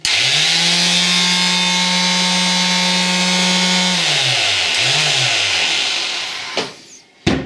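A repaired electric orbital sander runs loud and close with a steady whining drone, then powers down with its pitch sliding away, followed by a couple of sharp clunks as it is set down.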